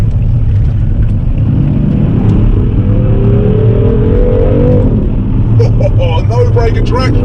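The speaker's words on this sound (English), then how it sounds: "I need to make a video of the sounds that this car produces of a stock exhaust" BMW M3 with stock exhaust on winter tyres pulling away under load: a loud, deep, steady engine rumble with a rising tone as it accelerates, and a voice speaking over it near the end.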